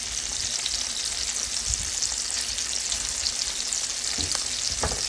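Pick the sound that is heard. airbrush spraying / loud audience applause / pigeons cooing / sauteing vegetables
sauteing vegetables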